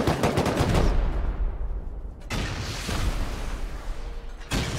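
Heavy gunfire during a raid in the video game Rust, loud rapid bursts at the start, cutting out, then another sustained volley and a fresh burst at the end, with no talking.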